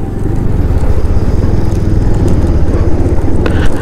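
An aging five-year-old motorcycle rides a rough, potholed, waterlogged mountain road in Nepal's Lower Mustang, its engine drone steady and close with low rumbling throughout, a few faint clicks and knocks near the end.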